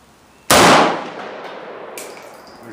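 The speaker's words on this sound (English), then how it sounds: "There's a second shot." A single loud gunshot from a DDI AK rifle being test-fired at an outdoor range cracks out sharply and then decays into a long echoing tail, with no talking.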